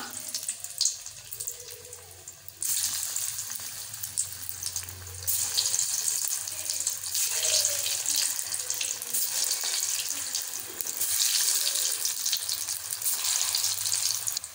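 Elephant foot yam balls frying in hot oil give a faint, steady crackling sizzle that grows busier as more pieces go in, with brief clatter and low hum beneath.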